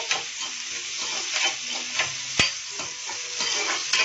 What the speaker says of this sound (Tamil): வெங்காயம் போட்டுட்டு நல்லா வதக்குங்க.